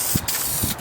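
Carpet dye sprays from a can onto a car's carpet in two short, close hissing bursts.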